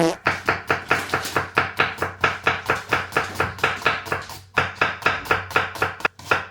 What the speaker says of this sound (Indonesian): Gue udah potong di slice onion sama bawang putih